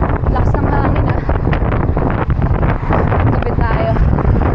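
Strong wind buffets the microphone on a cycling ride around Taal, a loud continuous rumbling roar with gusty surges, and a voice speaks briefly under it.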